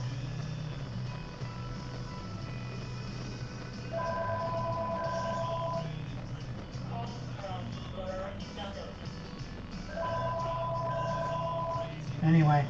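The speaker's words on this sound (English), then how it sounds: "Anyway, that's the phone," A telephone rings in a workshop where a truck is being hand-lettered. Two separate bursts of electronic ringing sit under a steady background hum, and a person talks nearby.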